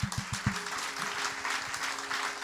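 A church congregation breaks into sustained applause, a dense wash of many hands clapping at a moderate distance, opening with a few heavier thumps.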